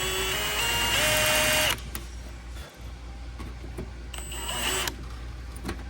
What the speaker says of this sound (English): So now he's going to grind that down